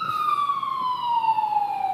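A fire engine siren passing outside, one steady wailing tone that slides slowly downward in pitch, clear above faint background noise.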